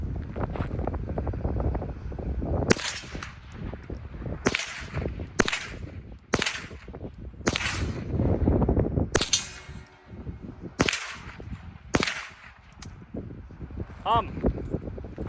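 Henry survival rifle firing several sharp outdoor shots at uneven intervals, some fired with the stock collapsed, each a loud crack against steady wind noise and low rumble.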